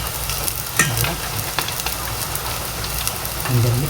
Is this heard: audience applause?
no